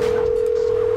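A steady phone ringback tone from GTA San Andreas, a single continuous pitch lasting the whole second, loud and alone with no talk.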